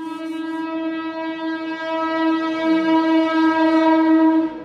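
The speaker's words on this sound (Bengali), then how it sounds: "ট্রেন আসছে" An approaching train sounds a long, loud, sustained horn blast with a rich steady tone, over a low rumble of rolling wagons that grows slightly louder before the horn ends; no voices.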